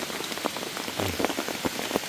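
Rain falls steadily on a mountain forest, a dense close hiss of drops pattering on leaves and surfaces with scattered louder splashes and no voices.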